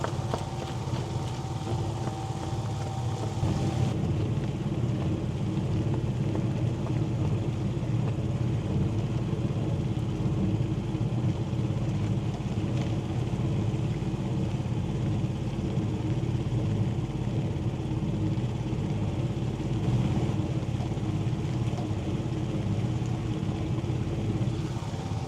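A boat motor drones steadily and evenly while rain falls during a crossing of Kampong Poy lake, the engine noise continuous and dense throughout with no talking.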